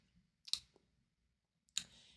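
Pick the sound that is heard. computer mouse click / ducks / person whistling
computer mouse click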